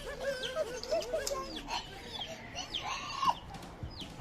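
Small chicks peep in a series of thin, high chirps close by, with light rustling and handling noise around them and no voices.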